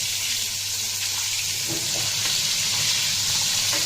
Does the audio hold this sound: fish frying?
yes